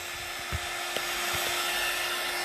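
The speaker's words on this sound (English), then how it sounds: "I'm about to use my heat gun" A heat gun blows over an epoxy-coated alcohol ink tumbler, giving a steady, close, loud whooshing roar with a faint constant hum and a few small knocks as it moves.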